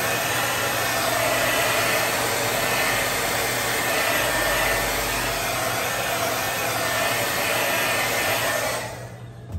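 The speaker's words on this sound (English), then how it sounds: "Blow dry, and then we'll take tape off and see how it looks." A hair dryer blows steadily and loudly, close up, drying paint on a studio-scale A-Wing model kit, a continuous broadband whoosh lasting several seconds before cutting off at the end.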